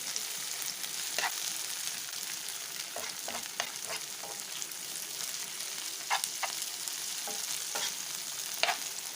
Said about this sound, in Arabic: ده البصل اهو بيتحمر اهو. خد اللون الذهبي اهو.